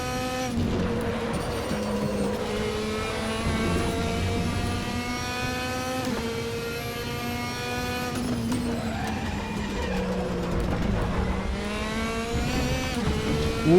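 DTM race car engines in RaceRoom at the Hungaroring scream in a dense pack, several high revving motors rising and falling through gear changes, loud and continuous with no talk.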